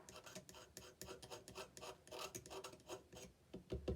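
A soft pastel stick is scraped to make powder, giving quiet, rhythmic rasping strokes repeated in quick succession, close up and with no talking.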